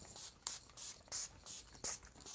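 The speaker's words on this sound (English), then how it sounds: "And then I do the setting spray about like 3 times." Makeup setting spray mists onto a face in about seven short, soft hissing bursts, close and quiet with brief gaps between pumps.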